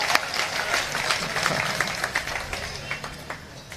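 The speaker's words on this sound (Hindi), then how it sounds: "अब आपकी तालियां उठेंगी" Audience applause at a Hindi comedy poetry recital (kavi sammelan), a steady patter of many hands clapping at moderate distance, fairly soft, with scattered sharper claps and no clear speech over it.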